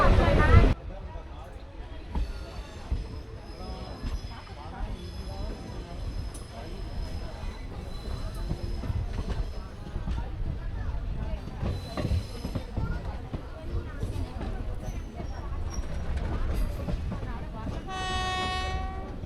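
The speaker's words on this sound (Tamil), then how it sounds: "ஒரு 6 மினிட் ஹால்ட்டுக்கு அப்புறமா நாசரத்துலேருந்து நம்ம வண்டி கிளம்பிடுச்சுங்க" Passenger train pulling out of Nazareth station on the Tirunelveli–Tiruchendur line, steady rumble and clatter of the carriages rolling close by, with horn blasts near the start and end.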